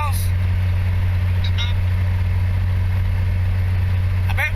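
A 1949 Chrysler with a very old motor drones steadily while driving, a loud low engine hum with road noise running throughout and faint brief squeaks.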